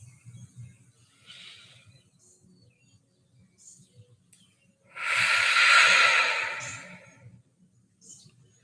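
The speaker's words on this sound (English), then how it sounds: "a nice deep cleansing breath" A person takes a slow, deep cleansing breath, a long airy exhale close to the microphone lasting about two seconds, surrounded by quieter breathing and faint mouth sounds, with no words spoken.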